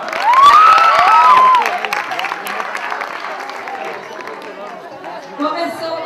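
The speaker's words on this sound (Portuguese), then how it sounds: "Palmas para ele." Brief applause and cheering from a crowd at an outdoor promotional event, with a child having just found a hidden item; busy chatter and lively voices run throughout, with the clapping loudest at the start and fading into general crowd noise.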